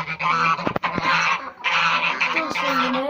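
Ducks and chickens kept in a fenced pen, loud close honking and quacking calls in bursts with short pauses, several birds overlapping.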